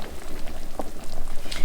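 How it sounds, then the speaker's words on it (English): Potato leek soup bubbles in a pot on the stove, a steady close churning burble with occasional small pops, no voices. "The soup is boiling now"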